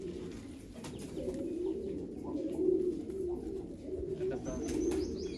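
Pigeons coo softly and repeatedly close by, low throaty calls overlapping in a steady rhythm with faint background noise.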